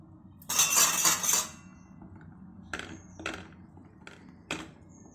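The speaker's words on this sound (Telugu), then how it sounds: "మనం మూత తీసి చూసుకున్నాం" A metal lid is lifted off an idli steamer pot: a bright, clattering scrape, then a few short, sharp metallic clinks spaced apart in a quiet kitchen.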